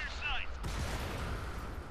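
Artillery fire in World of Tanks: a single heavy boom strikes partway through and rumbles out, after a brief high whistling sound, with faint game ambience throughout.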